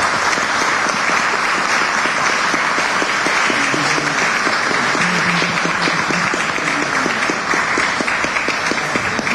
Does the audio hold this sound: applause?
yes